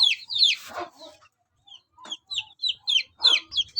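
Chickens, including a Barred Plymouth Rock rooster, cluck in a series of short, sharp bursts on a rooftop, close by, with brief pauses between calls and no talking.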